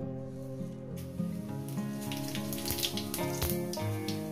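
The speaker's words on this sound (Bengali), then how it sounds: "জিরে ফোড়ন দিয়ে দিলাম।" Cumin seeds hit very hot oil in a pan, giving a steady hissing crackle with a brighter burst partway through, close and moderately loud, with no talk.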